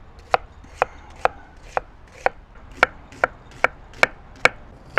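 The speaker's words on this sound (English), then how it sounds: "First thing we're gonna do is cut some onions" Knife chopping onions on a cutting board: about a dozen crisp, evenly spaced chops close up in a steady rhythm, with no voices.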